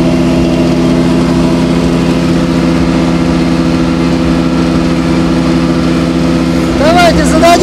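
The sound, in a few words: diesel tracked snow blower Caiman Edo 48YD running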